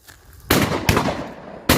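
Gunshots fired while hunting partridges in Pakistan: two sharp, loud blasts about 0.4 seconds apart, then a third after a short pause, each with a brief echoing tail outdoors.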